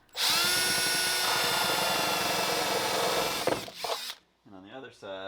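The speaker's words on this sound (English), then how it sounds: "we're gonna drill a couple holes here" A power drill bites into a live edge wooden mantle, a loud, close, sustained high-pitched whine lasting over three seconds before winding down, followed by a couple of short bursts and someone talking briefly at the end.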